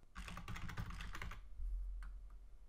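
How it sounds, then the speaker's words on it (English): Rapid typing on a computer keyboard entering a username and Wi-Fi password at a command prompt, a dense burst of close clicky keystrokes for about a second and a half, then a pause and a few isolated taps. "Then we need to type the username and"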